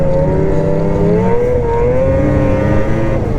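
A 2027 XRS 600RR engine held at three-quarter throttle in loose, soft ground while still in break-in, giving a loud, steady, close drone whose pitch wavers slightly throughout, with no talking.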